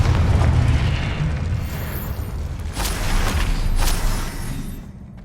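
Confringo blasting spell explosions in the wizarding game Hogwarts Legacy, loud booming bursts with a heavy low rumble, rolling and overlapping for several seconds before fading out.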